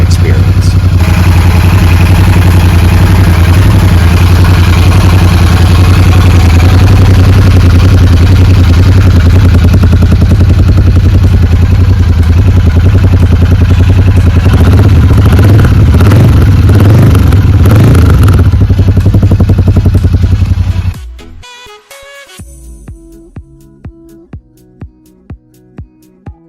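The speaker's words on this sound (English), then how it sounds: "When the engine roars to life, the exhaust note resonates with a rich tone" A Royal Enfield Super Meteor 650 motorcycle engine runs steadily with a deep, loud exhaust rumble for about twenty seconds, then cuts off abruptly, leaving faint ticking clicks.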